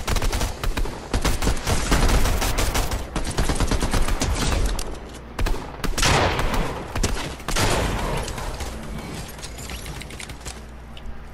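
Dense bursts of automatic gunfire in the video game Fortnite crackle in rapid volleys, loud and continuous with brief pauses, mixed with mechanical clicks of weapons.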